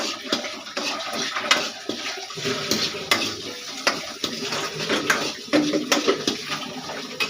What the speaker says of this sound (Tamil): லைட்டாக வதக்கிக்கலாம் ஃப்ரெண்ட்ஸ் ரொம்ப வதங்கணும்னு இல்லை லைட்டாக வதக்கிக்கலாம்